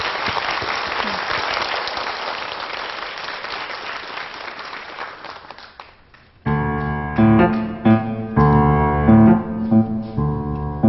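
An audience at a concert hall applauds to welcome a soprano, with a full crowd clapping for about six seconds before it fades away. Orchestral music then begins, loud and sustained.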